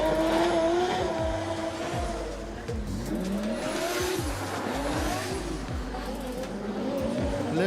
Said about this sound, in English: Launching the car around the track.